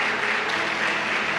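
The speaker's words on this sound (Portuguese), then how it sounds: "dê uma forte salva de palmas a Jesus" Church congregation applauding together, a steady dense wash of clapping filling the hall with no voices rising above it.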